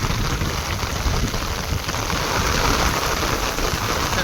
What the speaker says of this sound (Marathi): कसला पाऊस येतोय